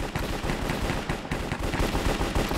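Rapid bursts of sniper rifle gunfire in the Minecraft Cops and Crims shooter game, loud repeated shots with a steady rhythm filling the whole stretch, no talking.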